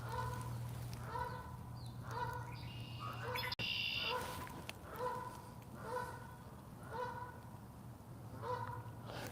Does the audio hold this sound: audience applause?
no